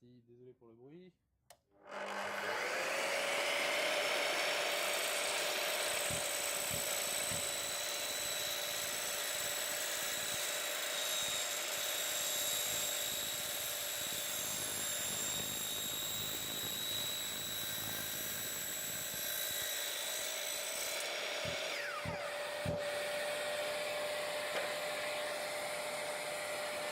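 A miter saw slowly cutting an aluminium fence post while a shop vacuum runs, a loud sustained high whining drone starting abruptly after quiet handling noises and then cutting off near the end.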